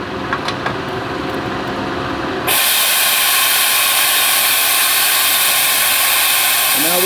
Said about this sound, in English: get my air hose. Watch that base suck right down to the floor.